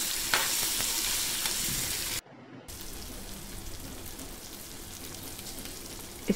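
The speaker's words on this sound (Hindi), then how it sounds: "उसके बाद हम कटी हुई मिर्चियों को डाल देंगे और थोड़ा सा चला लेंगे" Chopped green chilies fry and get stirred in a pan over medium-high flame, a dense steady sizzle with scraping strokes that cuts out briefly before resuming.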